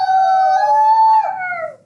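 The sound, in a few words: child in a class play imitating a howl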